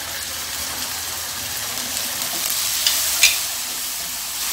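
Sausage and seasonings stir-frying in a pan, a steady close sizzle with a few sharper scrapes and spatters as the food is stirred, with no talking.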